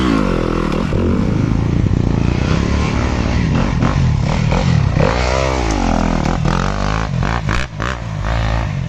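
A Yamaha YZ250FX dirt bike ridden on single track in its torquey engine setting, engine snarling loudly and continuously up close with throttle rising and falling, plus clatter and scrapes from the trail.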